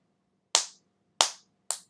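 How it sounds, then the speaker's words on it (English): Three sharp hand claps in different styles, including a palm clap, sound close and dry with uneven spacing and quiet gaps between them. "So it's like different sounding claps."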